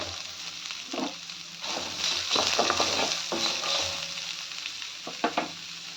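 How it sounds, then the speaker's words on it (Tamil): Green and dried red chillies fry with onion and garlic in a pan for beetroot chutney, a steady close sizzle with occasional scrapes and knocks of a stirring spoon. "2 பச்சை மிளகாய், 4 காஞ்ச மிளகாய் போட்டு நல்லா 2 நிமிஷம் வதக்கிடலாம்"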